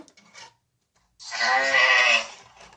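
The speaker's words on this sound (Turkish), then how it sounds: "Ben bir kuzu sesi bulmak istiyorum size ama" A single lamb bleat, loud and close, a wavering nasal cry lasting about a second after a brief quiet pause.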